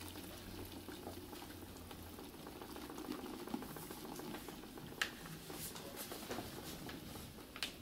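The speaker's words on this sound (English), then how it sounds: "So what you do is you take the bucket with the water, and very slowly you let the plaster go in." Plaster powder is poured slowly into a bucket of water, giving a steady soft hiss and patter of powder hitting liquid, close and continuous with a few faint knocks.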